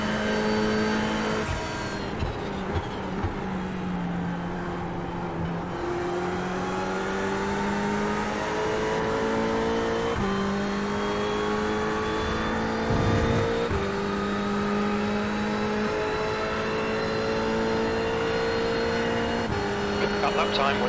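Ferrari 488 race car engine in the iRacing sim, a steady loud drone that rises in pitch through each gear, with brief dips at shifts across the lap.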